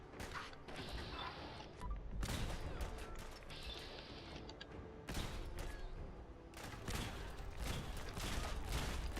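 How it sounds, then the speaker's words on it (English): Gunfire in Fallout 4 on hard difficulty, dense bursts of shots cracking repeatedly over roughly nine seconds with brief lulls between volleys, loud and close, mixed with clanking mechanical game sounds. "Somebody's already shooting at me."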